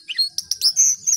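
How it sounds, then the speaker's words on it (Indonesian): A male jongkangan bird sings a quick, bright run of chirps and tweets, several sharp notes in close succession, near and clear with no other sound. "pada burung jongkangan jantan lebih sering mengeluarkan kicau, kicaunya lebih keras."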